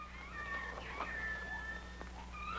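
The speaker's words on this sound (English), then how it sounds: "That's just a little baby lion." A baby lion cub makes a string of high, drawn-out cat-like cries and mewling growls, close and clear over a steady low hum, with no talk.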